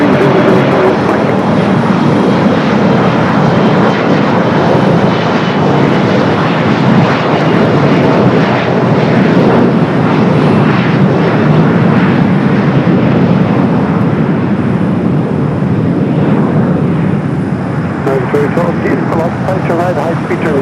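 Boeing 747 jumbo jet taxiing and turning at LAX, a steady broad engine roar held close and loud throughout, with a voice talking over it.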